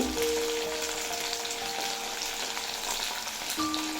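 Flat beans and potatoes frying in a pan with salt and turmeric, a steady dense sizzle throughout with faint stirring underneath.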